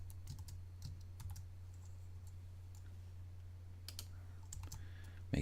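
A computer keyboard is typed on in quick bursts of crisp key clicks separated by short pauses, close but quiet over a low steady electrical hum, while HTML code for a Drupal 8 theme is entered.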